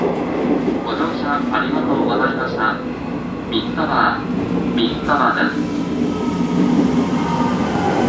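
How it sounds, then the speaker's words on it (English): Steady rumbling train noise inside a carriage travelling from Fukuoka to Saga, Japan, with rattling and occasional higher squeaks; voices talk over it throughout. "You actually have to talk a little bit loud to get across the, past the train noises."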